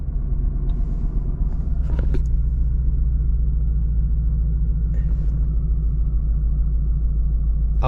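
A 2024 Ford Mustang GT with a loud exhaust, heard from inside while driving late at night, gives a deep, steady engine rumble that drones on continuously, with a few faint clicks and knocks in the cabin.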